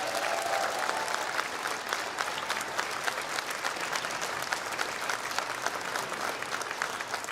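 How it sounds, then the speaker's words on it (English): A large audience at a national awards ceremony applauds an award winner, a dense, steady roar of clapping that holds at full strength throughout without any speech over it. "Give him another round of applause."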